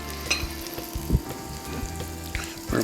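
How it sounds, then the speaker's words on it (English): Butter melting in a hot pan gives a soft, close sizzle with small crackles and pops. It stays quiet and fairly steady throughout. "Our butter's starting to melt."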